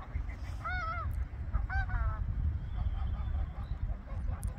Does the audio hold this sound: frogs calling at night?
no